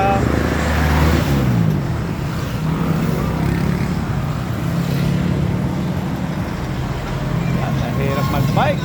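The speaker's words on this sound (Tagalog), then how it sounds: "Hirap mag-bike. Maraming sasakyan." Busy road traffic at a crossing in Plaridel, Bulacan, with many cars and other vehicles: a continuous loud engine and tire rumble close by, a vehicle passing now and then, and voices talking underneath.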